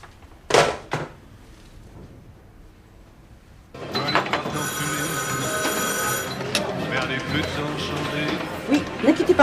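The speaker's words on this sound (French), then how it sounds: "Laurence, téléphone." A telephone bell rings loudly and continuously for several seconds indoors, following a couple of sharp knocks and a brief quiet stretch, with people talking nearby.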